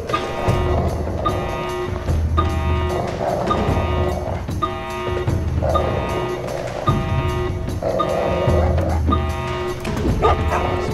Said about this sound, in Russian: Я начинаю не любить собак в этой игре